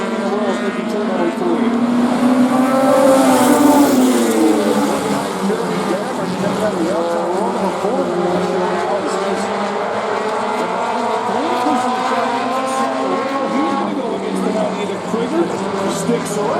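Race cars brake and corner on a track, loud engines revving, dropping and rising as they pass, with a commentator talking over the steady motor roar.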